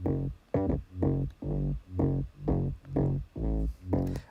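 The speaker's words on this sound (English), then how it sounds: "Very groovy bass." A soloed, groovy bass line from a remix pulses alone in a steady rhythm, about nine round, even notes of equal length, with no voices.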